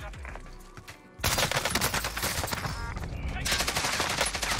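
Dense gunfire erupts from a fight between two teams in the video game Warzone: after a quieter opening, loud rapid bursts of automatic fire rattle continuously and closely for more than three seconds.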